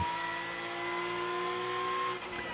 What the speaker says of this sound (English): Now watch him go through the gears here, down to turn 11